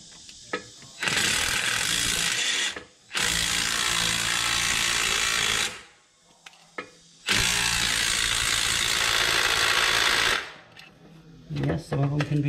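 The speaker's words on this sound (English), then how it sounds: "we're just using a 1/4-inch drive impact" A 1/4-inch drive impact wrench works on the leaf-spring U-bolts of a 2016 EZGO RXV golf cart, firing in two long, loud rattling bursts of several seconds each with short pauses between and brief handling noises at the end.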